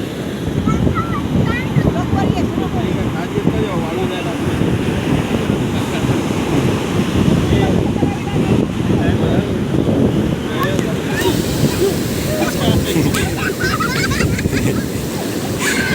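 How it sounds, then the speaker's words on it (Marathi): Ocean waves breaking on a beach on the Konkan coast near Malvan, a loud continuous surf wash with heavy wind buffeting on the microphone throughout, rising rushes as water surges in close by. "यावेळी आपल्या व्हिडिओच्या मध्ये लाटेचा आवाज बघा"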